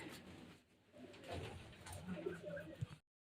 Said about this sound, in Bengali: তো এই যে পায়রা ছেড়ে দিয়েছি, এই যে 3টে পায়রা ছাড়া হচ্ছে।